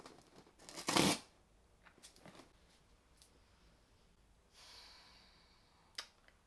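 A quick burst of cardboard tearing as a pull tab opens a LUSH product box, followed by softer rustles and a scraping pull, with a short sharp tick near the end; close and fairly quiet.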